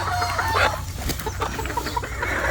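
Hens on a poultry farm cluck nearby in short, repeated bursts, with soft fowl calls mixed together over a low background hum and no talk.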